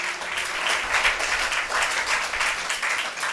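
Congregation at a Tamil Sunday church service claps together in a steady rhythmic beat, quick even claps repeating throughout at moderate volume, close and without speech.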